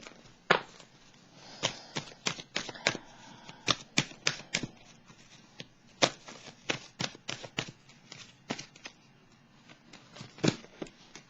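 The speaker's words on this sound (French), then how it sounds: "Je vais juste reprendre une carte pour..." Playing cards handled and flipped in a series of sharp, irregular snaps and slaps over about eleven seconds, close and fairly loud with brief pauses between bursts, no talking.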